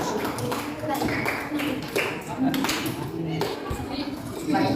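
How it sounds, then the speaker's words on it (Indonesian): Scattered clapping breaks out for a presenter during an internship gathering, uneven and fairly close, mixed with chatter and voices talking over it. "Tepuk tangan untuk Fitri dulu"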